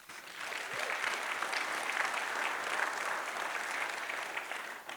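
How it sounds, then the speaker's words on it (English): Steady applause from a conference audience at an industry town hall fills the space for about five seconds, dense and even, tapering slightly at the end. "Give her a round of applause"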